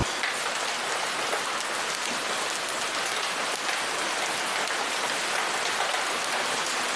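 Heavy rain pours during a violent storm over the A6 western motorway in Romania, a steady, dense roar of downpour drumming on surfaces without pause, loud and close, with no voices.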